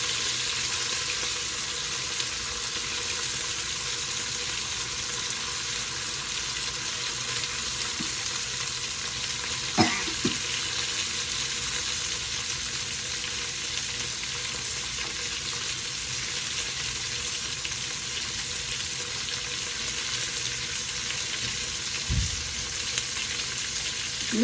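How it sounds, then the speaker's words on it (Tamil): Garlic, curry leaves and small and large onions frying in hot oil for a dal, a steady dense sizzle running throughout with a couple of faint clinks from stirring. "இப்போ பூண்டு பொரிஞ்சிட்டுது, கருவேப்பிலை போட்டுக்கொள்கிறேன், வெங்காயம், சின்ன வெங்காயம், பெரிய வெங்காயம்"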